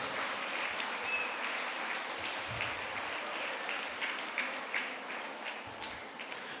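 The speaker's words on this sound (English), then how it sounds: "Let us together welcome him to Triumph 2023 with a loud round of applause." An audience at a school annual day function applauds steadily to welcome a priest, a dense wash of many hands clapping that holds evenly throughout.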